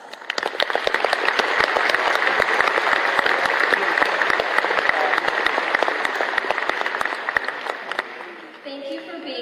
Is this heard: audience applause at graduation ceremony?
yes